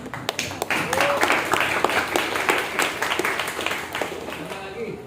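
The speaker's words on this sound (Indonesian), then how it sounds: "tepuk tangan" Clapping from participants at a journalism training session on news-writing technique, a burst of many hands that is dense and lively, fairly close, with voices talking over it.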